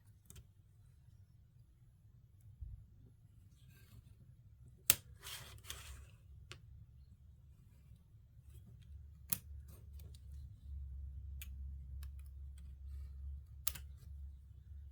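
Scissors cutting out paper pattern pieces for a house model, with sparse sharp snips and small clicks spread over a quiet stretch, close by against a low steady hum.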